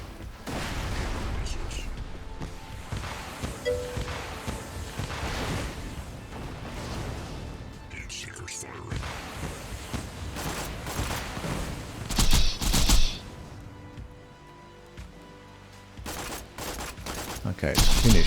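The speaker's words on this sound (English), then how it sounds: "Okay, it's finished with the rockets." Enemy rockets firing and exploding in a Borderlands video game, with rapid bursts of gunfire and booms layered over game music, louder blasts clustering late in the stretch.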